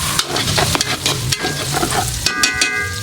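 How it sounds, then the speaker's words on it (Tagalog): Fatty meat being sautéed in a pan for ginataang langka, loud steady sizzling and spitting with crackles and occasional stirring scrapes, close and continuous. "Gigisahin ko yung maigi, yung parang matutusta na siya"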